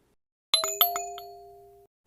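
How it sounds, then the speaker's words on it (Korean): A KakaoTalk message notification chimes on a phone: a bright two-note bell-like ding with a ringing tail, clean and alone against silence. "톡 수신음이 울렸다."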